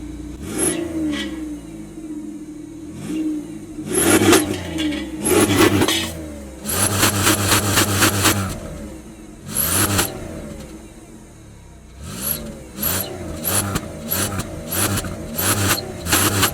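Small older car fitted with an oversized exhaust tip, its engine revving repeatedly in short bursts, rising and falling sharply between steady idle, loud and close with no talking.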